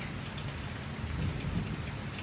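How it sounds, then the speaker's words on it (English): Steady summer rain falling through trees and pattering on leaves, a dense continuous hiss with a low rumble underneath, close and even throughout with no voices. "feeling the cool summer rain on your skin"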